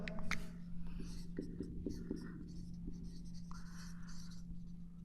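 Pen or marker writing out an example row matrix for a Class 9 maths lesson on matrices, a steady scratching of strokes with short pauses, close by over a constant low electrical hum and soft breathy sounds.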